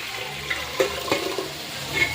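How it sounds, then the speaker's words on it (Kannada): Water is poured into a hot pan of tempering for obbattu dal sambar, giving a brief, fairly soft splashing rush with a faint sizzle over about two seconds, with no talking. "ಒಬ್ಬಟ್ಟು ಬೇಳೆ ಬೇಯಿಸಿರ್ತೀವಲ್ಲ ನೀರು ಹಾಕ್ಕೊಳ್ಳೋಣ."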